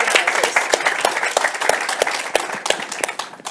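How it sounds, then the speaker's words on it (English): Applause at a summit for innovation: a crowd clapping steadily with dense, sharp overlapping claps at a fairly close distance throughout. "Let's have a round of applause for Roger Zakheim."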